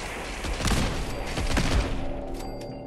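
Shotgun fire in Fallout 4, a few booming shots spread across a busy, continuous stretch of game noise, loud and close with no clear pauses between blasts.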